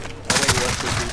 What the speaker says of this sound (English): these gunshots are loud as fuck.